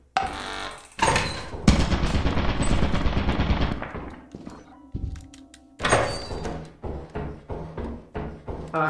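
A turret in the video game Lethal Company fires in long, loud machine-gun bursts, breaks off into quieter clanks and thuds, then opens up again with rapid shots, close and harsh, with no talk.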